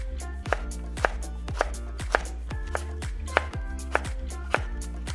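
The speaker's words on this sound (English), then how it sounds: "then I'm just going to shred it finely with my dazzling knife skills" A knife finely shreds fresh peeled turmeric on a board, with eight sharp, evenly spaced chops ringing out clearly and close by, with no talk.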